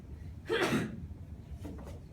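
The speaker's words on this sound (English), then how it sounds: "A sneeze? Bless you." A single short sneeze from someone in a university business lecture hall, fairly close and brief, followed by a softer breathy sound against quiet room noise.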